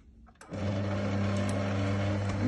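A stand mixer with a paddle attachment turns kulich dough with raisins at its lowest speed, starting up after a brief quiet moment into a steady, close, even motor hum that holds without a break.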